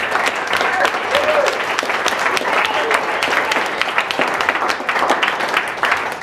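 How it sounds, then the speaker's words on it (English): Audience at a dinner theater murder-mystery show applauding steadily and loudly throughout, a dense wash of clapping with some crowd noise mixed in. "Give yourselves a huge round of applause."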